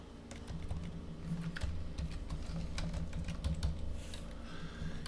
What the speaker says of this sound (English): typing a little bit quicker here